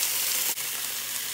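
Chicken pieces sizzle steadily in a small amount of hot oil in a pan, a soft continuous frying hiss with one brief dip, for a Japanese-style oyakodon chicken and egg rice bowl.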